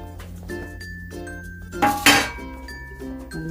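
Ragi flour mixed with powdered sugar and cardamom is stirred with a spoon, giving a couple of bright metallic clinks against the bowl over a low steady hum, with no voices.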